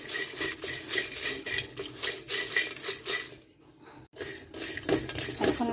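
Whole spices, hard ones and poppy seeds, dry-roasting in a pan for a meat spice mix, with a steady rhythmic scrape and rattle of stirring that dips briefly to near silence before resuming.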